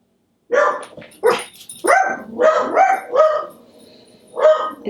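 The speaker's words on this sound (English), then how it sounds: "my dogs are at the door guarding the house" Several dogs bark at the door of a house, loud and close, in a run of sharp barks and yips with short gaps, then one more bark near the end.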